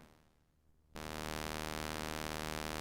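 Quiet steady hiss with a low hum from a Tascam DR-70D portable recorder's noise floor, jumping abruptly to a louder, denser static noise that holds constant to the end.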